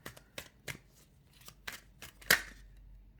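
Tarot cards are shuffled by hand for a card draw, giving a run of dry riffling flicks at an uneven rhythm, close up, ending in one louder slap as the deck settles.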